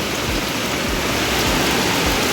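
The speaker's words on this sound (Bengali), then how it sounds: "খুব জোরে খুব মুসলধারায় বৃষ্টি যাকে বলে" Heavy torrential downpour around a home, a dense, loud, unbroken roar of rain hitting surfaces with faint low rumbles underneath.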